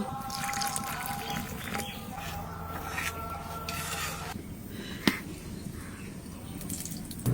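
Water is poured into ground mustard paste and stirred by hand, making soft, wet sloshing and rubbing sounds, with a sharp clink partway through.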